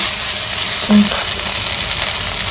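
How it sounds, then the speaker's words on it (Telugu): Ginger garlic paste fries in oil for chilli chicken, giving a steady close sizzle with a brief soft knock midway, no voices. "ఈ అల్లం వెల్లుల్లి కూడా బాగా పచ్చి వాసన పోయేంత వరకు వేసుకున్నాము"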